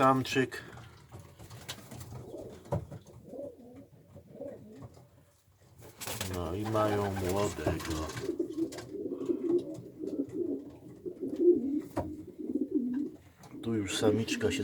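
Homing pigeons coo in a loft, with soft, repeated throaty coos close by and a few rustles and flutters between them.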